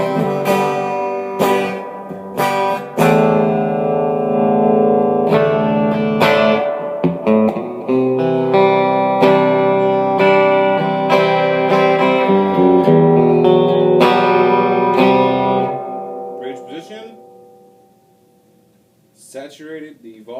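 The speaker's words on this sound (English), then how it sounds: "I recommend the Digitech Valve Distortion SC2" An electric guitar through a Digitech Valve Distortion SC2 pedal, played into a distorted tone with sustained notes and chords over about fifteen seconds before ringing out and fading near the end.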